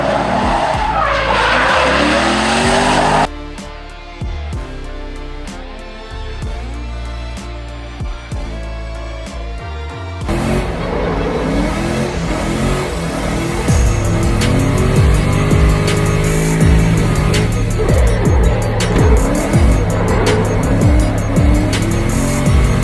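A C6 Corvette drift car slides hard with loud, continuous tire squeal and skidding over a roaring, revving engine that rises and falls through the whole run, sounding close and intense with no talking.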